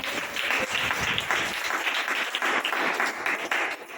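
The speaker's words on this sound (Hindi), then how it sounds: "ताली बजाओ ना।" A crowd applauds steadily, dense clapping filling the space for several seconds without pause.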